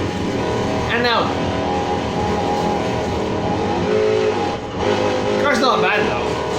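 Engine of a 2017 Infiniti Q60 S in Need for Speed Heat, heard steadily and close with rising revs and gear shifts near the start and end, under a busy game mix and music.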